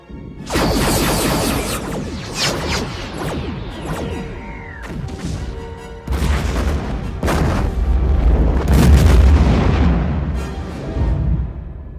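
Weapons firing at a planet's surface in the EVE Online video game, a loud, continuous barrage of booming blasts, crashes and whooshing impacts, heavy deep rumble swelling in the second half.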